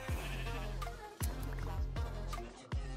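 Sheep in a video game bleating several times in quick succession, loud and close, with short wavering calls separated by brief gaps and no voices.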